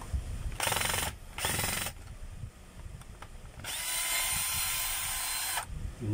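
A noisy machine gear and bearing run during a check, giving loud grinding mechanical bursts that start and stop several times. The final stretch is a longer sustained run, close and harsh.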